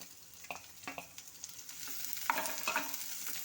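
Small shallots fry in oil as they are stirred, making a soft continuous sizzle that grows a little fuller over time, marked by light scraping taps from a spoon.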